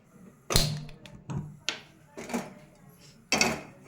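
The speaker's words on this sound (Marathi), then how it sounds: "आता आपण कढई गरम करायला ठेवूया।" A kadhai pan is set down on a home kitchen stove, giving a few separate metallic knocks and clatters that come at irregular intervals, close and moderately loud, with no one speaking.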